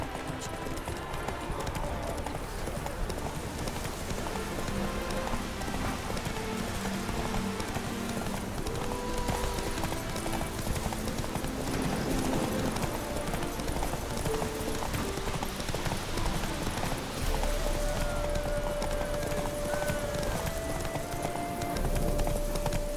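Horse galloping in the video game The Witcher 3: continuous rapid hoofbeats over a dense game soundscape with music and ambience, steady and close for the whole stretch.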